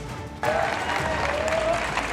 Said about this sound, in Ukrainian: Співробітники офісу британського прем'єра вітають Зеленського оплесками.